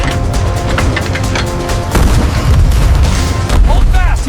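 A harpoon gun fires at a whale during a large whale catch, a heavy boom amid dense, rumbling sea and deck noise, with indistinct voices in the background and a second deep thump near the end.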